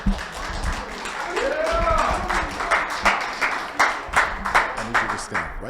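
Audience claps for a performing artist at a community celebration, a loose patter of hands that thins into scattered, uneven claps, with voices talking over it.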